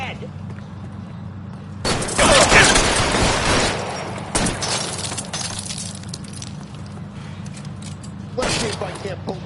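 Gunfire in the video game L.A. Noire: a loud burst of shots with shattering glass, then scattered single shots, under a shouting voice and a steady background hum.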